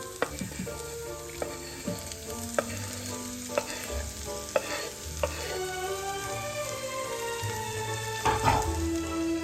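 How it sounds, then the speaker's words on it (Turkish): Chopped olives fry in a pan with red pepper, a continuous sizzle under intermittent clinks and stirring knocks, growing busier near the end. "Zeytinler tavaya."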